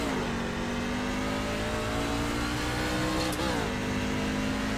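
NASCAR Class C fixed-setup car in iRacing at Circuit of the Americas, pulling away in first gear with the engine note climbing steadily and loudly, a brief dip and shift near the end.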